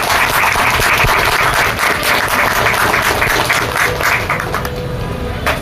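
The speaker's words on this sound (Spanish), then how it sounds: "así que brindémosles unos aplausos" An audience at a literary talk applauds in a dense, continuous wash of clapping that stays loud and steady, then thins slightly toward the end.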